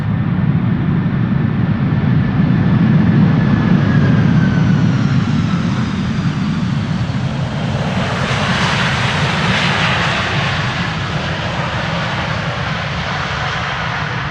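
An airliner landing at Amsterdam Schiphol roars loudly and continuously as its thrust reversers deploy, a steady broadband engine rush that swells with a brighter hiss midway and holds near and dominant with no talk.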